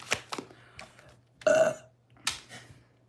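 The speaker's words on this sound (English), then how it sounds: "Confirmation burp." A loud close burp in the middle, surrounded by a few faint clicks and taps in an otherwise quiet room.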